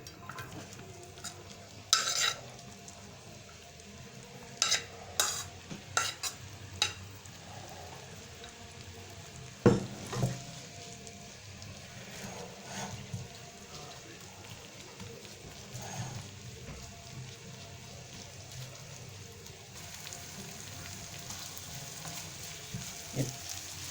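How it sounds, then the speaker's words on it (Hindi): Onions fry in ghee in a pan for Lahori tawa keema, giving a soft steady sizzle. Occasional stirring knocks and clinks break through, and no one speaks. "प्याज जो हम घी में फ्राई कर रहे हैं"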